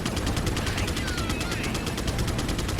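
Resident Evil 4 gunplay: loud, rapid automatic gunfire rattles in a fast, regular stream of shots from start to finish.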